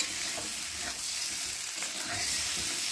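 Potatoes and eggs frying in a pan while being stirred, a close, steady, loud sizzle with faint scraping of a utensil throughout.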